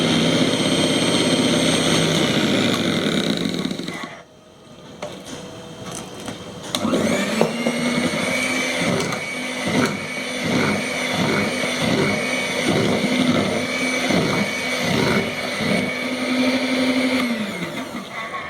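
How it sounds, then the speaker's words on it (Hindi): An electric hand mixer whirs loudly through cake batter with oil and milk, cutting out briefly, then restarting with a steady pulsing drone that runs for several seconds before stopping. "फिर और एक बार मैं इसमें मिक्स कर दूँगी।"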